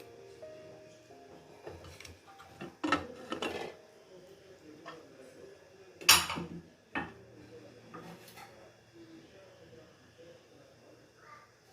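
A cooled pressure cooker holding lentils and vegetables is opened, giving scattered metallic clanks and clicks of the lid and weight over a quiet background, with a person talking between the sounds.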